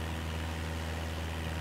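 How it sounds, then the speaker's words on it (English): Aircraft engines run continuously in X-Plane 12 or Microsoft Flight Simulator 2020, a steady, even mechanical drone with a low hum and no voices. "The aircraft engines are still running."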